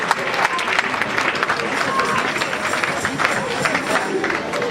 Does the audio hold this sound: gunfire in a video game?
no